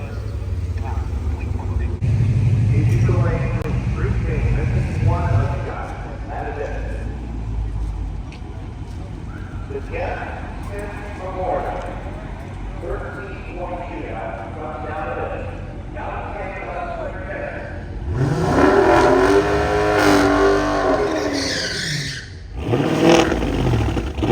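Drag cars roar through the 1320 Shootout final at the Holley MoParty 2023 drag racing event, two green cars racing each other. Engines rev loud and continuously, swelling near the end, under heavy crowd noise and voices talking over them.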